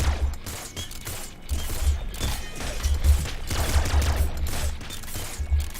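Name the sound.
auto crossbow firing in video game Nuclear Throne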